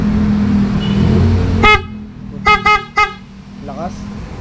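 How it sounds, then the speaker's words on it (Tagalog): A Piaa aftermarket car horn, a single unit, sounds in one short blast followed by three quick loud honks, close by over a steady low engine hum. "kakabitan tayo ng Pia horn"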